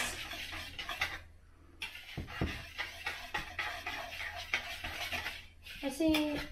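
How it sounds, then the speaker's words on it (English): Whisk clattering against a bowl while mixing banana bread batter, a rapid run of light scraping and clinking strokes with occasional metallic knocks, close by and continuous. "now you whisk it"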